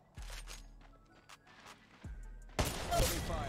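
Apex Legends Mobile gunfire: a couple of sharp single shots, then a dense burst of rapid automatic fire at the end, with in-game footsteps and effects between.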